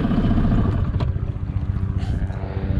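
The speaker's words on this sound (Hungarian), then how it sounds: "Leállítom a motort." A boat's outboard motor running loudly up close, its low rumbling drone fading and sputtering as it is shut off, with a few clanks near the end.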